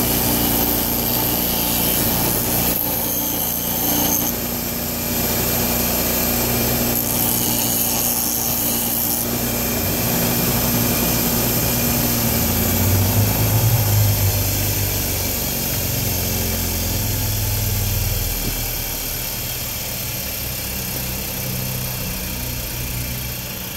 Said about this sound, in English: It doesn't take them long to grind the end off. Or it doesn't take the grinder long.